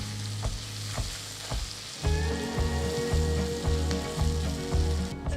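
Curry leaves dropped into hot ghee for a dal tempering: a mild sizzle with a few stirring taps suddenly bursts into a louder, crackling, spitting fry that keeps going, pulsing slightly as it is stirred.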